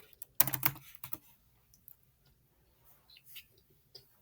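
A quick burst of computer keyboard typing comes up close, followed by a few sparse, faint key taps in a quiet room.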